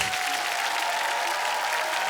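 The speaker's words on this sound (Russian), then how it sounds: "Вашим родителям большие аплодисменты." A television singing-contest audience applauds the singer's parents, with dense, even clapping from a large crowd throughout. A faint sustained tone sits underneath.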